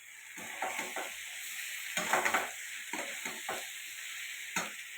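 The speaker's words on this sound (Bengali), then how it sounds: "আলু সিদ্ধ করে কুচিয়ে রেখেছি ওটা দিয়ে দিলাম এবার ওটা ভালো করে ওর সাথে নেড়ে নেব" A spoon scrapes and stirs chopped boiled potatoes into chana in a pan. Soft, irregular stirring strokes sound over a low, continuous sizzle, nearby and fairly quiet.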